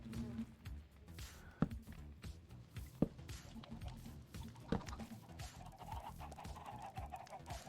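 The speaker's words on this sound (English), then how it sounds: "Oh yeah, there's big chickens." Chickens cluck repeatedly in a single-player block-building video game set in a large-biomes world, with short sharp clucks recurring every second or so against a steady, busy game background.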